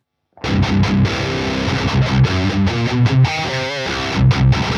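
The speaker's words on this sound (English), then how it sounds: "You can get nice vintagey, crunchy tones with these both." A crunchy, overdriven electric guitar plays chords and short riffs through a distorted amp, loud and close with a gritty vintage tone.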